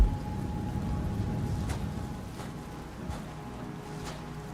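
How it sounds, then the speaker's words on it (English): Steady rain falling in the Rain World video game, a continuous broadband hiss with a low rumble and a few sharper spatters, loud and unbroken with no talk. "It is in fact raining."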